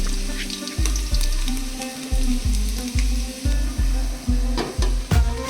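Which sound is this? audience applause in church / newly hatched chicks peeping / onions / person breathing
onions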